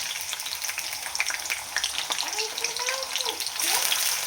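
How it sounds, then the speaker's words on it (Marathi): Garlic, cumin and mustard seeds sizzle and fry loudly in hot oil for a spicy drumstick amti, a steady close crackle that swells near the end, with a voice talking over it. "आता टाकायचं आहे आपल्याला त्याच्यामध्ये लसूण"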